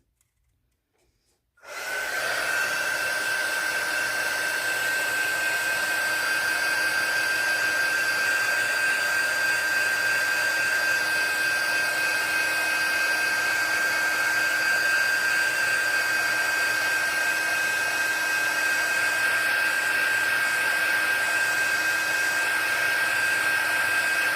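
A dryer starts after a short silence and blows steadily with a loud, even whine, drying a crayon and watercolor craft mold project up close.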